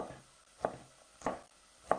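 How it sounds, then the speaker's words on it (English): Knife chopping red pepper on a board while preparing a vegan red pepper bisque, three distinct, evenly spaced chops, close and crisp against a quiet kitchen background. "it doesn't matter how quickly you chop, really"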